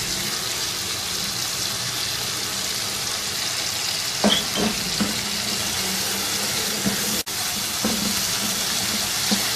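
Chicken sautés in a pan for a bread and samosa filling, a loud steady sizzle with a few scrapes and knocks of a spoon stirring partway through, no voices.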